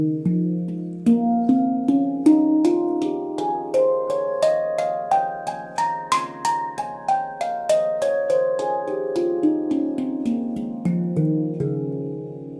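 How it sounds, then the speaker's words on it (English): Amber steel handpan, a Yishama F Integral 19 Quentin Moreau edition, played solo in a flowing run of bright, ringing notes that climb and then descend, each strike sustaining with shimmering overtones. "It's a F Integral 19 Quentin Moreau edition that I specially designed with Jonathan."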